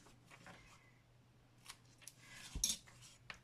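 Scissors cut through scrapbooking paper in a few soft, quiet snips near the end, after a faint background hum.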